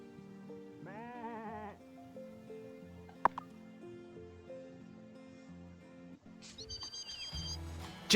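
Sheep bleating in the farming video game Wylde Flowers: a wavering, quavering bleat rises briefly over steady game music, followed later by higher-pitched animal calls and chimes, with no talking.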